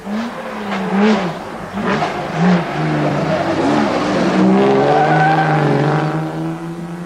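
Rally cars race flat out along public roads in a European motor rally, engines revving hard in rising and falling sweeps, loud and close, blending into a sustained high-pitched roar.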